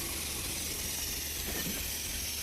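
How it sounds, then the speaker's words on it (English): Air compressor powering a sandblasting machine, a steady, continuous hiss and hum with no break, loud and close throughout. "this is compressor machine, which produces compressed air and forcing the sand at very high speed"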